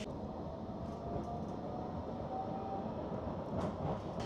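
A Blackpool tram rolls along with a steady low rumble and faint rail clatter, heard from inside the car at moderate level and running continuously without speech.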